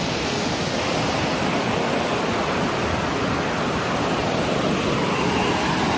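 Thalakona waterfall roars close and loud, a dense unbroken rush of falling water that stays constant throughout with no voices.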